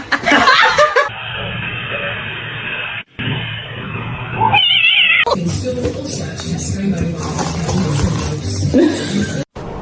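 A cat meows a few times amid a noisy home scene, with people laughing and chattering nearby between abrupt cuts and bursts of louder household noise.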